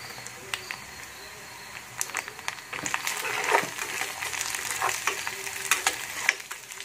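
Egg toast mixture with black pepper and cumin powder sizzles and fries in a pan while being stirred, with scraping strokes and bursts of crackling sizzle that grow busier and louder midway, heard close up.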